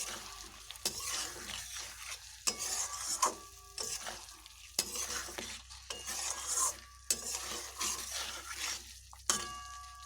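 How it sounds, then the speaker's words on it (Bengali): Water being stirred into a taro curry in a pan, with repeated scraping stirs and clinks of a utensil over a steady sizzle, no voices. "এখানে আমি এখন একটু জল অ্যাড করছি। জলগুলোকে একটু এর সঙ্গে ভালোভাবে মিশিয়ে নেব।"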